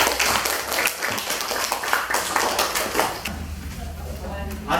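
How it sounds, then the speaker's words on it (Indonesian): Audience applause for the presenters at the close of a teacher field-practice session in a classroom, a steady, dense patter of many hands clapping for several seconds, with voices mixed in. "Berikan aplaus dong untuk kita"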